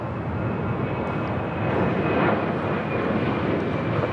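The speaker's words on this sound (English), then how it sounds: "This is Alaska Airlines 1420 taking off to Guadalajara on a 737-900ER" An Alaska Airlines Boeing 737-900ER departs from LAX, its jet engines producing a loud, steady, broadband roar with a thin high whine running through it.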